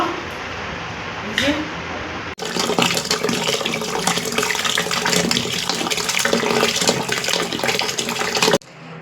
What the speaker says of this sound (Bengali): চলুন বন্ধুরা মাছ ধুয়ে নেব